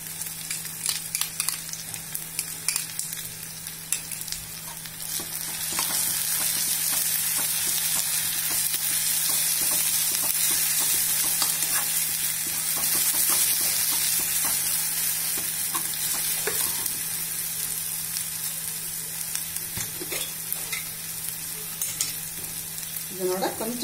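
A paste of ground coconut and dried chilli fries in a pan for tomato rice. Loud, continuous sizzling runs throughout, with scraping stir strokes and no talking.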